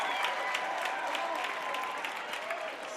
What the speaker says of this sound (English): The biggest cheer we've had from the crowd tonight